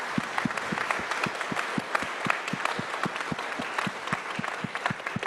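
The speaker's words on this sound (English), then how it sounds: "give a round of applause to all the staff from the chambers" A crowd applauds steadily for several seconds, a dense patter of clapping with a few louder individual claps standing out.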